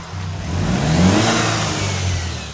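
A Mercedes engine fitted with a diverter valve revs up and holds, a loud close mid-pitched roar that rises, sustains for about two seconds and eases slightly before a fresh surge at the end.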